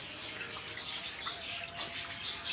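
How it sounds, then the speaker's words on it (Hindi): Water is poured steadily into a trough for a cow to drink, a soft continuous splashing and trickling at moderate distance with no talk. "अब ये हम पानी डालते हैं जी ये गां पानी पीती पई है"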